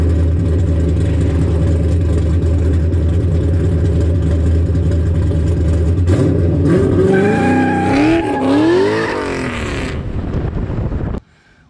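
A loud LS3-swapped Lincoln LS drift car with a 4-inch exhaust and diesel resonator muffler drones steadily, then revs hard through rising and falling engine pitches before cutting off abruptly at the end.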